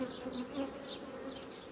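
Honey bees hum softly at a hive whose colony has no mated queen, a steady faint buzz with brief wingbeat whines passing close by.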